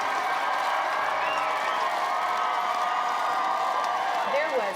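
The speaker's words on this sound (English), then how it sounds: "The applause, the cheers as they drove through Windsor were deafening." A large crowd in Windsor applauding and cheering as a wedding carriage drives past, a dense continuous wash of clapping with whoops and shouts, loud and sustained throughout.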